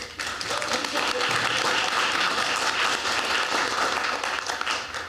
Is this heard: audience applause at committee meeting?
yes